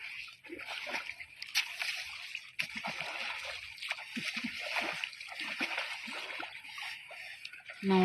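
Water splashed repeatedly onto a baby elephant lying down during a flood, with wet splatters and sloshes in irregular bursts, close by, with voices talking intermittently throughout.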